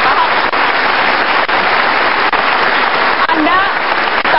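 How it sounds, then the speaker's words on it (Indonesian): A studio audience applauds during an Indonesian televised talk show, a dense, even patter of clapping sustained for a few seconds, close and loud, with a few sharp clicks standing out. "Oke, kita kasih tepuk tangan."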